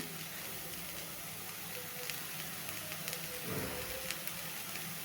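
Onions sautéing in a pan, a steady low sizzle and hiss that holds evenly throughout, with faint crackles and no speech.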